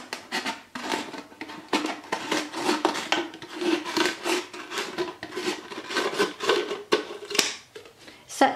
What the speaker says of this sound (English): gently cut this part of the bottle